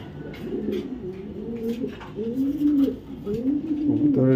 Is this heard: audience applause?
no